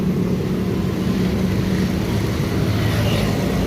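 Gas escapes loudly from a leaking line on a busy Lahore street by a market: a steady, dense roaring hiss that holds without a break, close and loud.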